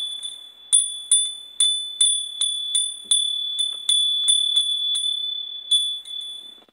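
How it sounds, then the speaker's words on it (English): A small handbell rings out in a quick series of about fifteen bright, sharp strikes with a high, sustained tone, each ring fading before the next. It is used to clear negativity and sounds close and alone with no talking. "the bell just helps to ring out some of the negativity"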